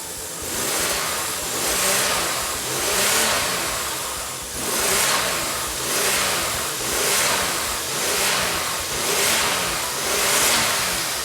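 A rough-running Toyota V6 turbocharged on one bank drones steadily up close, rising and falling in slow surges about every second and a half, with a harsh, uneven tone throughout.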